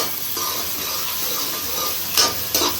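Onions, curry leaves and mustard seeds sautéing in hot oil for a fish curry, a steady close sizzle with a couple of sharper crackling bursts near the end.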